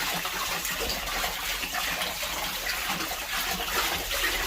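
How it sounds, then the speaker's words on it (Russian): Settled water from a bio septic tank chamber trickles and gushes steadily out through an overflow, a continuous soft watery rush heard up close with no talk. "Через этот перелив отстойная вода начинает вон потихоньку вытекать"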